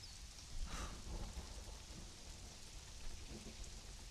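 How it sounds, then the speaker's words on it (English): Steady rain falls in the survival game Conan Exiles, with a low rumble of thunder beneath a broad continuous hiss. It plays alone at a quiet level, with no voices. "Has it been raining non-stop?"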